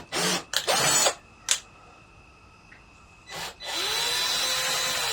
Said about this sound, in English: So first you drill a hole with the small one, and then you just use the bigger one